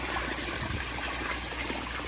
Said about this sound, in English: we're gonna pick up this bucket here, okay, and you're gonna pour into the corner